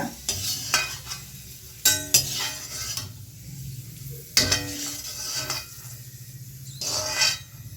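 Raisins frying in a pan of oil, a soft close sizzle broken by several sharp stirs and metallic clinks of a spoon against the pan, in irregular bursts with quiet gaps and no voices.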